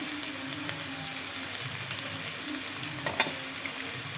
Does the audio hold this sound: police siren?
no